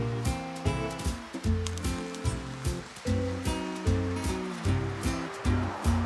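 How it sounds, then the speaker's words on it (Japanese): Freshly boiled hot water poured from a kettle for a milk café latte, a continuous close splashing gurgle with pulsing, bubbling tones as the stream fills the cup, no speech. "お湯が沸いたのでね注いでいきたいと思います"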